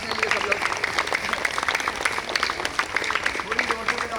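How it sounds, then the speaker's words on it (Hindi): A yoga workshop group applauds for themselves, a dense, steady patter of many hands clapping at close range for a few seconds, with no speech over it. "तालियां बजाइए एक बार अपने लिए सब लोग।"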